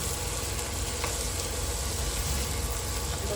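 String beans (sitaw) are stirred in a hot frying pan, giving a steady close sizzle and crackle with soft scraping and shifting throughout and no voices.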